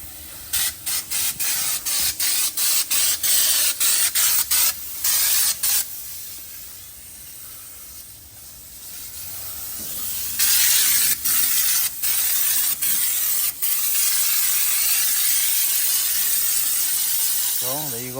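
Loud, steady hiss of a spray gun applying truck bedliner to a single cab Silverado in repeated short bursts, then longer continuous spraying, close by with a constant compressor-like drone.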